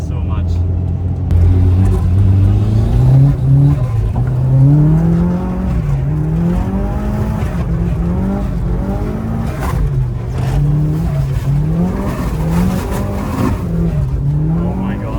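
A Mitsubishi Evo driven hard on snow, its engine revving up and down in repeated surges with wheelspin rumble, heard loudly from inside the cabin while occupants talk excitedly.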